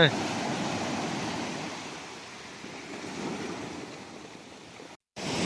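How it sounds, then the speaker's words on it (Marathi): Big sea waves rolling in on the shore, a steady roaring wash of surf with wind noise, fairly loud and continuous before a sudden cut near the end. "आता लाटा मोठमोठ्या झाल्या"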